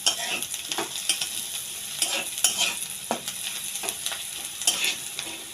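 Onions fry in white or mustard oil, a steady sizzle dense with crackling pops, broken by repeated scraping and stirring strokes, close and moderately loud with no voices.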